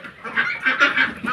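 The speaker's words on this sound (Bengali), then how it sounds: "হাঁসটাই বেশি আছে।" Several domestic ducks give loud, repeated honking calls in a quick ragged series from close by, kept among hens in a village coop at night.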